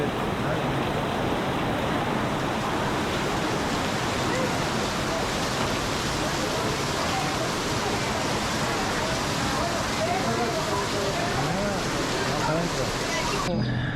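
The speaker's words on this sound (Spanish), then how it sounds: "De golpe ha caído una tromba de agua." Heavy rain downpour pouring down near a pool at a beach home, a dense, steady roar of water that stays loud and unbroken for the whole stretch before cutting off abruptly at the end.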